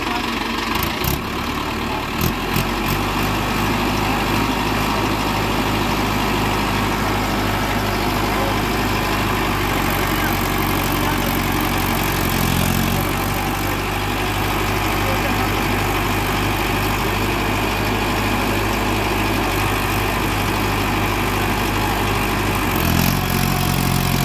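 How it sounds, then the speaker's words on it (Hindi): A Mahindra 555 DI Power Plus 57 HP diesel tractor with power steering idles steadily and close by, its low engine rumble holding even throughout, with a slight change in tone near the start. "काफ़ी शानदार आवाज़ है ट्रैक्टर की दोस्तों।"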